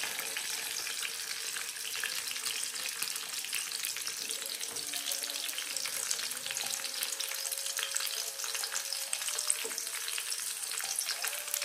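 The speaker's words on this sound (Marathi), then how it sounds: "आता ते परतून घ्यायचंय सगळं साहित्य." Onion, fresh curry leaves and chili sauté in a pan in a home Konkan kitchen, giving a steady, close, even sizzle and crackle that runs unbroken throughout with no talking.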